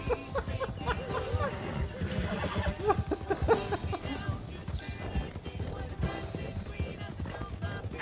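A horse gallops in Red Dead Redemption 2, its hoofbeats a rapid, busy clatter heard under constant excited talk from men, with a brief whinny mixed in.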